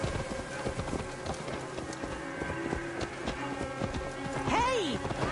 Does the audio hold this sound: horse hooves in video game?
yes